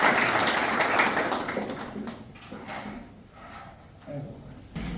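An assembly of the regional council applauds in a dense burst that fades within a couple of seconds, followed by a speaker talking at the microphone.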